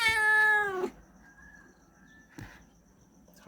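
A kitten gives one clear, loud meow at the start, held for nearly a second, then quiet dark-room ambience with a faint squeak and a small rustle.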